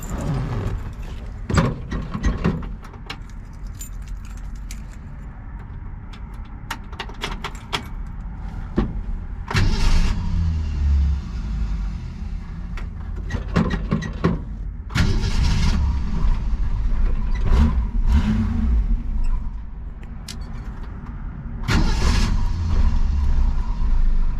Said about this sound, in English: We like to start our cars cold, so you see exactly how they start up.